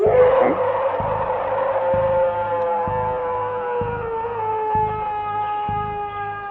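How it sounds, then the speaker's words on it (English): A long, deep roar of a creature in a forest swells at the start, then drags out and slowly falls in pitch over several seconds, loud and near with a steady low throb beneath and no talking. "Then out of nowhere was a roar."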